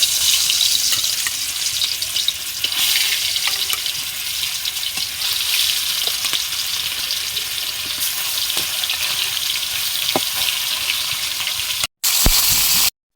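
Shankar fish (stingray) frying in hot oil in a pan, a loud, steady hiss and crackle running continuously at close range, cut off briefly near the end.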